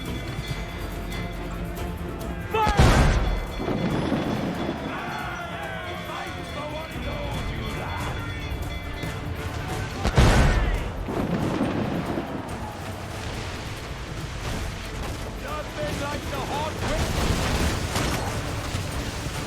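Two heavy booming blasts from ship cannons a few seconds apart ring out over constant rumbling noise and shouted voices during a naval battle in Assassin's Creed IV: Black Flag.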